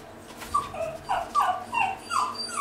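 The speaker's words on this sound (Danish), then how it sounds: "Hunden, vi kan høre i baggrunden, det er Ruby" A small dog whimpers and gives a series of short high yips in the background, several rising cries spaced through the moment, moderately faint with no talking.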